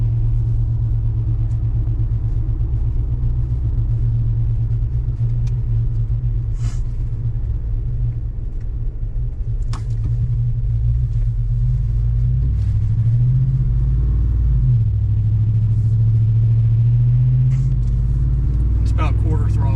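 A 2021 Ford F-250 with the 7.3L Godzilla engine and an MBRP exhaust makes a wide open throttle pass on a main road. It gives a loud, continuous low exhaust rumble that swells and holds for the whole stretch.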